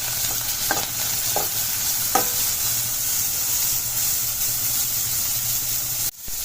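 Carrots and vegetables fry on a high flame for street-style veg fried rice, with a steady loud sizzle and a few sharp scrapes of stirring, followed by a brief clatter near the end.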